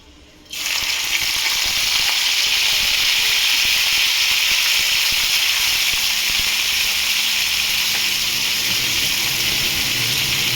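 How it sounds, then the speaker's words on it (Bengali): Dried shutki fish frying in hot oil, giving a loud, steady hiss and sizzle that starts abruptly and runs on unbroken, with no talk over it. "এবার আমি এই তেলে এই শুটকি মাছটা ভালো করে আর কি ফ্রাই করে নেব।"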